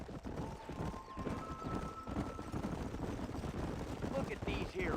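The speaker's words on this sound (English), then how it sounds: "Look at these here horses." Horses clip-clopping in the western video game Red Dead Redemption, with a neigh or whinny, a low background ambience and faint game sounds layered over the steady hoof rhythm.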